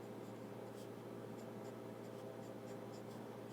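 Sailor fountain pen with a medium fine nib writing on paper: a faint, quiet scratching of short strokes in a soft rhythm, alone in a hushed room.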